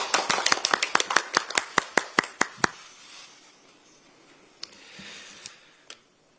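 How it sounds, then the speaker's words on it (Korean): A few people clap to welcome a speaker at a Democratic Party political event, about fifteen crisp, rhythmic claps close by, slowing and stopping, followed by a handful of scattered single claps in a quiet room. "큰 박수로 맞이해 주시기 바랍니다"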